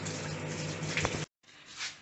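Oil sprayed onto a jacket potato: a close, hissing burst of spray that cuts off sharply, then a short, softer second spray after a brief silence.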